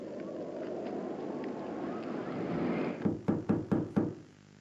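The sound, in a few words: knocking on a door in a video game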